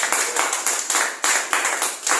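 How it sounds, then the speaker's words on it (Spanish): A church congregation applauds the Lord during a Spanish-language Bible study service, loud, dense and sustained clapping with rhythmic surges, close and filling the room, with a faint voice underneath. "Quisiera que le dé un aplauso al Señor."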